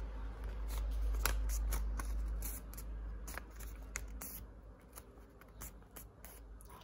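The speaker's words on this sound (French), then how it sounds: "Alors ensuite, vous allez plier le papier." Paper is folded by hand, in a close series of crisp rustles and sharp creasing scrapes spread over several seconds, quiet and unaccompanied by talk.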